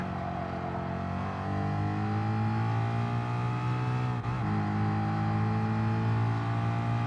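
Group 3 Mustang race car engine in Gran Turismo Sport, a loud continuous droning roar with rising and falling pitch and a brief dip as the throttle lifts, no voices.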